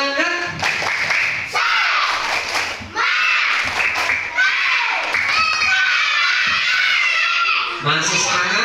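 Third-grade schoolchildren in a classroom perform a rhythmic clapping chant, bursts of clapping and thumps alternating with shouted children's voices in repeated phrases, loud and close.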